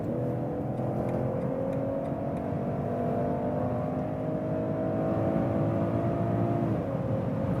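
Inline six-cylinder engine of a BMW 540i pulling steadily from about 120 km/h, a continuous loud droning hum with a smooth rising tone and road rumble, no talking.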